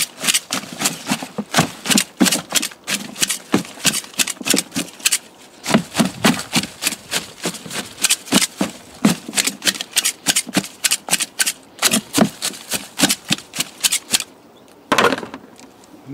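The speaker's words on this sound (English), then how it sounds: "And while we're chopping, we're also giving it a mix." Compost ingredients being chopped and mixed in a plastic storage bin, a long run of rapid, close cutting strikes mixed with scraping, briefly pausing midway and again near the end, with no talking.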